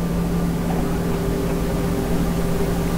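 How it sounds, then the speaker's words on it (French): Boeing 737-800 engines in the Microsoft Flight Simulator X (FSX) game during a Nice to Barcelona flight, a loud, steady droning whine with a constant tonal hum, alone throughout. "Je sais pas du coup si vous entendez bien le bruit du moteur, mais j'ai installé des machins pour que ce soit les vrais bruits"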